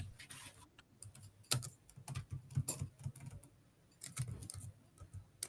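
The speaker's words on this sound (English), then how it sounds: "I hear somebody's typing." Someone types on a computer keyboard, bursts of crisp close key clicks with uneven rhythm and short pauses between runs, alone without voices.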